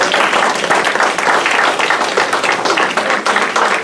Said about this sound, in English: let's give a big round of applause for Chris.